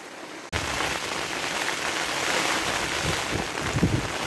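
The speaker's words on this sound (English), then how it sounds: "Can you hear that rain, man? I think winter's arrived, guys. It's absolute chucking buckets." Heavy rain chucking down on a winter fishing trip, a dense, loud, continuous hiss that starts abruptly and holds steady, with no talking.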